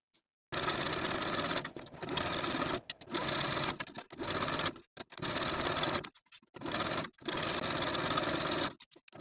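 A sewing machine edge-stitches the turned-up half-inch hem of a velvet dress ruffle close to the serged stitches. Several close, steady bursts of stitching are separated by short pauses, with no talk.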